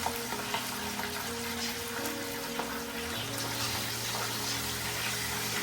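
Red snapper sizzles and fries steadily in a pot for Jamaican home cooking, a continuous close crackle with a low bubbling undertone and no voices.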